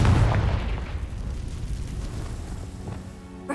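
A Confringo blasting spell detonates in Hogwarts Legacy, a loud booming burst at the start that rolls off into a long rumbling decay, with a faint sharper pop near the end.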